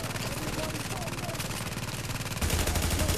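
Sustained rapid turret fire in The Division's Dark Zone, a steady loud rattle that grows heavier and more forceful near the end.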